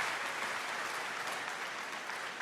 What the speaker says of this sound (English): Why don't you give a big round of applause for Annie?